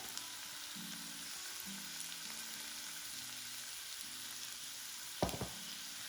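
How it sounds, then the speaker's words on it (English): Zucchini sizzles steadily in a hot pan, a continuous hiss of frying with a brief clatter of a utensil near the end and no talking. "We're cooking the zucchini for about 2 to 3 minutes and making sure it's softened."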